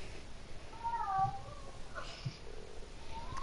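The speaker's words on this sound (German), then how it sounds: "meine Katze soll mal still sein." A pet cat meows indoors during a Star Wars Battlefront gaming session, giving a couple of brief, fairly faint mews over a low background hum.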